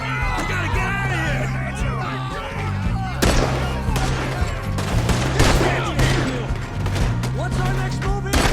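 Rapid bursts of gunfire in the Red Dead Redemption 2 campaign, a fusillade of repeated shots over game music, with voices shouting between the volleys.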